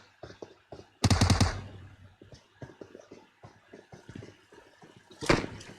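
Gunfire in the PUBG Mobile battle royale game: a loud, dense burst of rapid shots near the one-second mark and another near the end, with scattered sharp single cracks between them.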